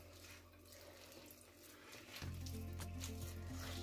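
Water running from a tap into focaccia dough, a faint trickle at first that turns into a strong, steady pour near the end.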